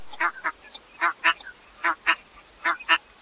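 Shoveler ducks on open water, a dabbling species, give short nasal quacking calls in paired bursts, repeated about six times, moderately close and clear with no talking over them.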